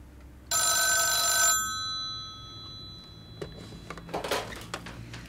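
A telephone rings indoors in a Russian drama film: one bright, trilling burst of about a second, followed by quieter handling clicks as the receiver is picked up.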